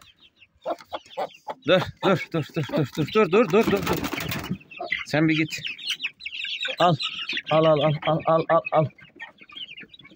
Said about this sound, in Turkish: Bir de tavuklar bizi rahat bırakmıyor.